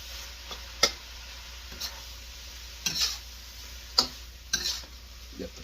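Eggs being broken up and stirred in a pan of shrimp fried rice: a soft sizzle under a handful of sharp, spaced spatula taps and scrapes against the pan.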